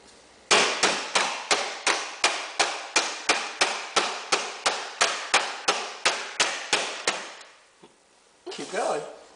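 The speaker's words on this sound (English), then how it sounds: "Okay, you got some more hammering to do?" A steady series of about twenty sharp, evenly spaced hammer blows, loud and close, ending in a brief pause before a voice speaks.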